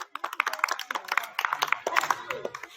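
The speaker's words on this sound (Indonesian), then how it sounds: "Tepuk tangan dulu untuk kelompok ketiga." A class claps in a rapid, uneven patter that runs throughout, with voices mixed in beneath the applause.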